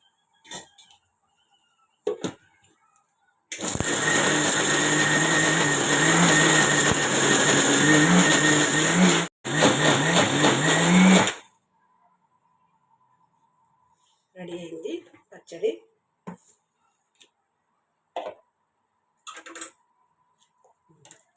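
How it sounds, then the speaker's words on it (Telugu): A loud mixer grinder whirs for several seconds while grinding ridge gourd peel chutney with water, stops briefly, then runs again before cutting off; scattered clicks and short sounds follow. "మొత్తం పచ్చడి ఇదంతా మిక్సీ జార్లోకి వేసేసి ఇక వాటర్ వేసుకోవాలి ఎందుకంటే మిక్సీ తిరగదు కదా"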